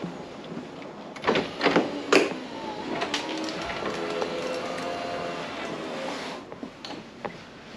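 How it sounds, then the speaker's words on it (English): Electric convertible top of a Honda S2000, a flood-damaged abandoned car, whirring and clunking as it retracts, with a steady motor hum and a few louder knocks and latches along the way. "How cool would that be to have a convertible top that actually goes down?"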